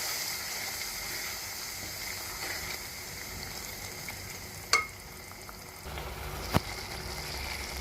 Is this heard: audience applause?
no